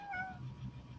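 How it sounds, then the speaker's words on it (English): A pet cat gives a short, clear meow, fairly close and alone, about one second long. "My kitty cat hungry, so they want to go outside."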